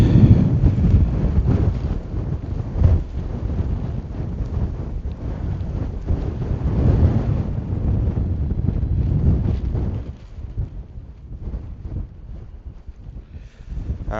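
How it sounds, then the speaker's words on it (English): Strong wind gusting to about 25 buffets the microphone on a mountain in the Arrochar Alps, loud rumbling gusts at first easing slightly toward the end, with water and a boat faintly beneath. "let's see what the wind is."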